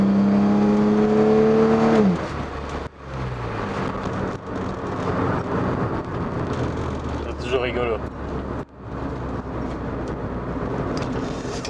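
A BMW E30 accelerating at full throttle with kickdown, steady engine drone rising under the throttle inside the car, while someone talks over it.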